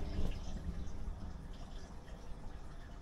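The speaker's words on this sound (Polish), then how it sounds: "Ale mała ilość wody poszła." Water rushes through a drain pipe clogged with grease deposits, a continuous hollow gurgling wash that is loudest at the start and then settles into a steady churning flow.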